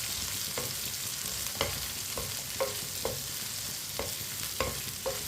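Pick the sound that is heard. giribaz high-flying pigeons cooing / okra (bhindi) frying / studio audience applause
okra (bhindi) frying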